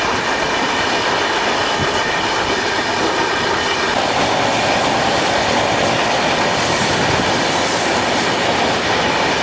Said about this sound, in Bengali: এই ক্যাপ এক্সপ্রেস তামিলনাড়ু থেকে শুরু করে অন্ধ্রপ্রদেশ, উড়িষ্যা হয়ে পশ্চিমবঙ্গ পর্যন্ত টোটাল 4টি রাজ্য পার করে আমাকে বাড়ির পথে পৌঁছে দিচ্ছে।